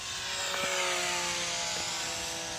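Hobby Zone P-51D Mustang 450mm RC plane at full throttle, its small electric motor and propeller giving a steady high whine with shifting pitch as it passes, fairly close and without speech.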